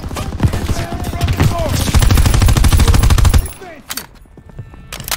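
Rapid machine-gun fire in the World War II shooter Call of Duty WWII, a dense, loud burst rattling for about three seconds before cutting off to quieter sounds and a few isolated shots, with a voice speaking over it.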